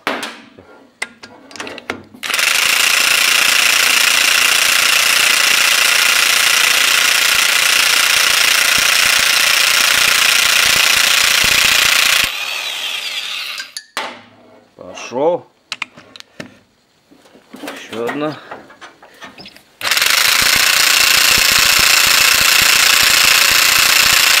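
A power impact wrench rattles in long, loud sustained bursts while loosening nuts on a YaMZ-238 diesel engine during reassembly, with a quieter gap of clanks and brief handling noises between runs.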